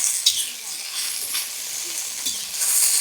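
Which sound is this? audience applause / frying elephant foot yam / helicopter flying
frying elephant foot yam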